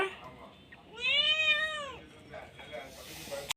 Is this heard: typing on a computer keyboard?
no